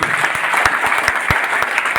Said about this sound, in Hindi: तो मैं चाहूंगा अनिल राय सर के लिए एक जोरदार ताली हो।